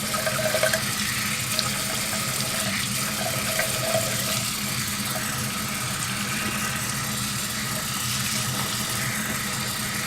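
Tap water runs steadily and loudly over a makeup brush as soap is rinsed out, a continuous close splashing rush with no pauses.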